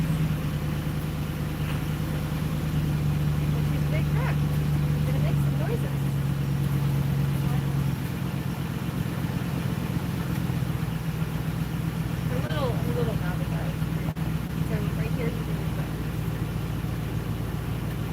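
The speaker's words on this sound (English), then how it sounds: "Well, she's a big truck. She's gonna make some noises." A big truck's engine idling nearby, a steady low rumble running throughout, with a faint child's and adult's voices talking over it at times.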